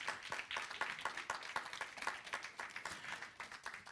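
Church congregation clapping in a dense, steady patter of many hands, with scattered sharp claps throughout; no clear cheering voices stand out over the applause.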